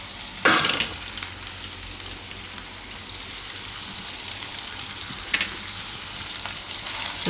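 Raw banana pieces hitting a hot oiled pan over raised heat, a loud burst of sizzle at the start and another mid-way, then a continuous close frying hiss.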